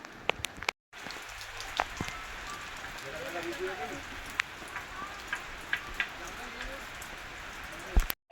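Steady rain patters and drips on surfaces nearby on Girnar mountain, with scattered louder drops and a brief cut-out near the start; a voice speaks faintly beneath.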